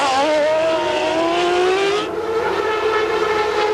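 A McLaren Formula One race car at the 1995 Brazilian Grand Prix drives by, its high engine note rising and then dropping as it passes, with continuous loud engine noise throughout.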